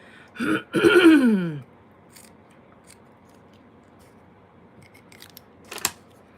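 Scissors cutting thick material to length for wrapping around the back of a craft piece, two quick close snips followed by quiet, then a brief faint click near the end.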